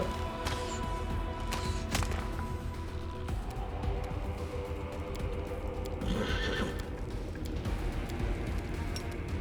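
Horse in the fantasy video game Pathfinder: Wrath of the Righteous whinnying amid a noisy battle, with a few neighs and some hoof clatter under rumbling combat sounds and crashes.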